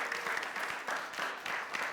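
Studio audience on a French TV variety set applauding, a soft, fairly distant patter of clapping hands lasting about two seconds with no speech.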